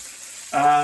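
Hake fillet pan-frying in a lemon-butter sauce, a quiet hiss that swells into a louder, steady sizzle halfway through the short moment.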